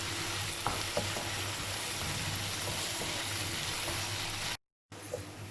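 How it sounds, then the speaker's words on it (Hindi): Masala frying in oil in a pan for stuffed karela, a steady close sizzle with faint stirring clinks, briefly cut to silence near the end before the sizzle resumes. "तो ये मसाला बहुत अच्छे से भुन चुका है।"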